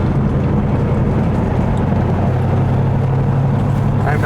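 A 1969 Ford Mustang Mach 1 cruising at about 50 mph, its engine and road noise a loud, steady rumble from inside the car, with no talk.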